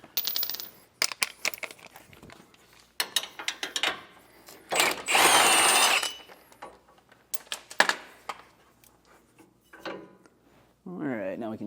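Metal clanks, ratcheting and scraping as a bolt is worked free during a Hellwig front sway bar install on a 2020 Entegra Coach Odyssey, in bursts with a long loud grinding stretch midway and a brief voice near the end.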